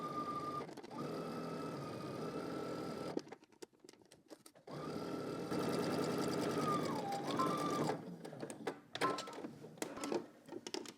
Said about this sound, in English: now we're going to head to the sewing machine and we're going to stitch our sleeve in place